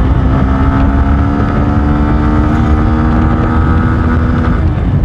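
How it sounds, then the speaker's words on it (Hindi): A Bajaj Pulsar N125 motorcycle with an underbelly exhaust is ridden at speed, giving a loud, steady engine and exhaust drone mixed with heavy wind rush on the microphone. "अंडर बेली एग्जॉस्ट है तो अच्छी एग्जॉस्ट साउंड मिल रही है देखने को"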